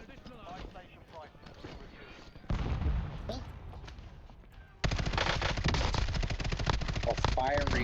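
Rapid automatic gunfire in the shooter game Ops 11, loud bursts that grow denser and louder partway through, with voices talking underneath.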